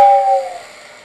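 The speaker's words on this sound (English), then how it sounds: "this whistle sound can be activated by turning on the track power and pressing the whistle button" A ready-to-run Lionel toy train set's air whistle sounds one short tonal blast that starts loud and fades away within about a second.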